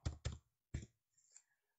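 Several sharp keystrokes on a computer keyboard, three distinct taps in quick succession followed by a couple of fainter clicks, close and quiet with no talking.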